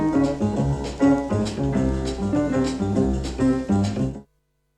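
Sampled music recorded into a Roland SP-303 sampler at its original sample rate, a full, clean loop of chords and bass with a steady beat of repeated hits, played alone for about four seconds before cutting to silence.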